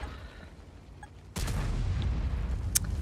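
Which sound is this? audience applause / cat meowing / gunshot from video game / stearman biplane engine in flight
gunshot from video game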